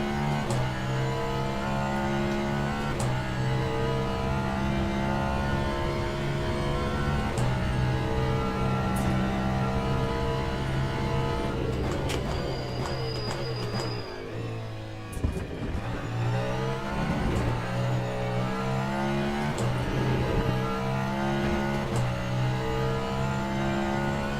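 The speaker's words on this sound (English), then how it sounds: "I like the sound of this Cadillac. This Cadillac sounds really good." Cadillac race car in the Le Mans Ultimate racing game, its engine revving hard and shifting through gears in repeated climbing sweeps, dipping briefly mid-run as it slows for a corner before accelerating again, loud and continuous with no talk.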